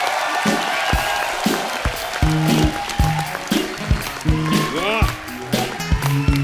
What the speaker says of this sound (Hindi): जोरदार तालियों से एक बार स्वागत हो जाए